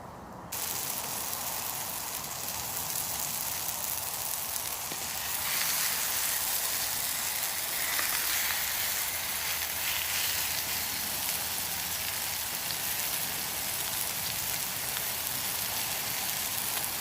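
Dry-aged 30-day sirloin steak sizzles in a Trangia pan at a wild camp, a steady close hiss that runs unbroken for the whole stretch, no voices over it.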